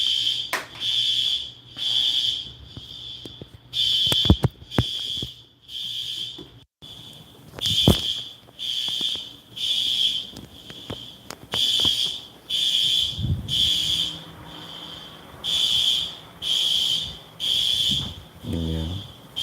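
A fire alarm in a building sounds a loud, shrill electronic tone in regular bursts of about a second, repeating through the whole stretch, with occasional knocks and handling noises between pulses.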